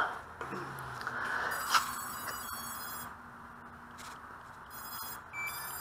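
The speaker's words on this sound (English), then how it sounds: "as soon as you hear that beep, we are bound" A Hubsan X4 protocol radio transmitter gives a short, clear electronic beep as it binds to a Hubsan H123D brushless micro racer quadcopter, heard once up close over a quiet room hum.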